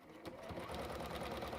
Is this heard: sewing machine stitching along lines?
yes